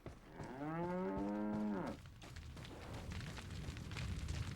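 A cow moos in Resident Evil 4: one long, low, loud moo of about two seconds, followed by quieter rumbling ambient game sound.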